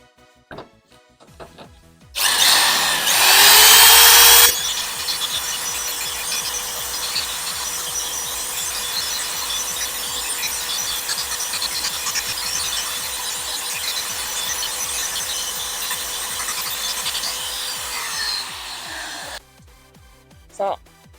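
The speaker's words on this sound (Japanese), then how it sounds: "ダブルアクションの電動ポリッシャー。 バフの方はウールバフの細めです。" Dual-action electric polisher with a thin wool buff and fine compound working the paint of a Suzuki Wagon R with 190,000 km on it. A steady, close whirring hum and rubbing starts abruptly, holds evenly, then winds down.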